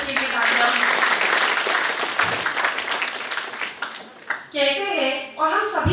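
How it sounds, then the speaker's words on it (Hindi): Dense applause from a crowd at a college self-defence workshop run by a women's safety squad, loud and sustained, with a voice speaking over the final second or so. "एक बार फिर सबके लिए तालियां।"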